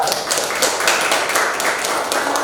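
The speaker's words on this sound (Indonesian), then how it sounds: "Oke, tepuk tangan dulu." A class of students claps hands together at the end of a lesson, a short burst of brisk, loud, uneven clapping from a group close by.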